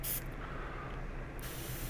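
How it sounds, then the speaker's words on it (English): An airbrush with a 0.3 mm tip at lowered air pressure sprays pre-thinned Scalefinishes model paint, giving a steady close hiss that starts and stops crisply over about two seconds. "So now you just got to spray on the paint"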